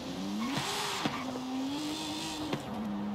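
Engine of an engine-swapped wagon in the racing game Forza Horizon 5, a steady droning tone rising and falling in pitch as it revs, with brief shifts and a constant loud presence throughout.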